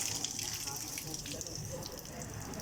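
Water runs steadily from a newly installed water line with its hose head just fitted, a continuous close splashing hiss that lasts the whole stretch, with no words spoken.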